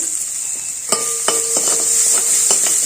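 Spices sizzle steadily in a hot pan while a utensil scrapes and taps against the metal a few times as they are stirred.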